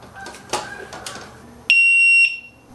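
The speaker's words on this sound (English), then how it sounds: "When the lock is disturbed, it gives off two warning beeps, and then the alarm goes off." A few short clicks and rattles of a Xena motorcycle disc lock alarm, then a sudden loud, piercing electronic tone that holds steadily for about half a second before cutting off.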